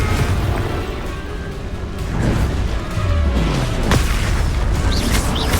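The Confringo explosive fire spell in Hogwarts Legacy during combat, heard as loud, heavy rumbling blasts and booms in a continuous dense battle mix with bright cracks and crashes layered over it.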